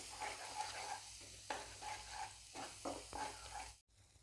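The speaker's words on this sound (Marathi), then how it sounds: "हा मसाला याच्यामध्ये व्यवस्थित परतून घ्यायचा आहे" Red chilli powder masala sautéed in oil in a pan, with repeated stirring strokes in rhythmic bursts over a soft sizzle, close and fairly quiet, ending in a brief cutoff.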